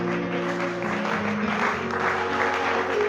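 A worship congregation applauds and acclaims during a service, the clapping layered over sustained musical tones that hum steadily underneath throughout.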